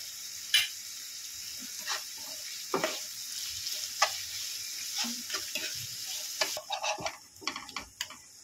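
Onions frying in a pan with a pinch of salt, a steady close sizzle punctuated by sharp scraping stirs every second or so, with no talking.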